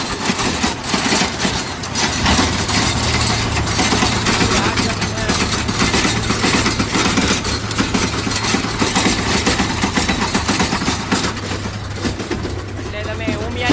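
A New Holland 5510 4WD tractor drives a 6-foot rotavator through a farm field, its diesel engine holding a steady low drone beneath continuous talking.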